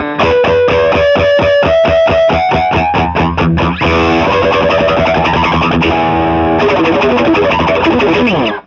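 Distorted electric guitar with chorus rings out ringing harmonics over the low strings, a run of picked notes giving way to sustained, shimmering tones, loud and steady with no voices.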